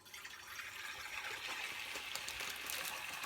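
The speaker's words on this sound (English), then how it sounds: "And then I put a little bit of fresh water." Fresh water poured from a tap into a jar for a produce wash, a steady close gushing fill that grows slightly fuller as it runs, with no voices.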